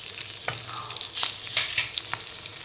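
Small whole onions sautéing in a pan for Chettinad okra mandi, a steady broadband sizzle with scattered stirring scrapes and clicks close up, no voices.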